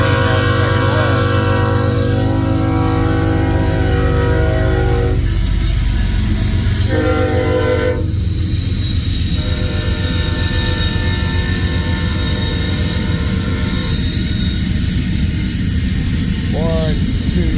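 A northbound manifest freight train led by six locomotives rumbles past at Pacific Junction, Iowa, loud and close, with a steady roar of engines and wheels, a horn sounding early, and shifting tones as the units go by.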